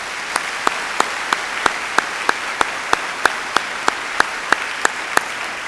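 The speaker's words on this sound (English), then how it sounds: "Let's give these students a round of applause." A graduation ceremony crowd applauds steadily for several seconds, dense clapping from a large audience heard alone and fairly loud without talking.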